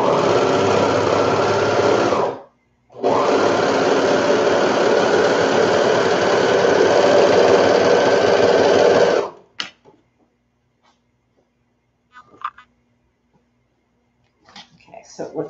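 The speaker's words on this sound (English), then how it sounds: "So I'm going to go ahead and serge that next." A serger stitches along the edge of a baby bonnet with ribbon caught in the seam, running loud and steady for about two seconds, pausing briefly, then whirring continuously for six more before stopping, followed by faint handling clicks.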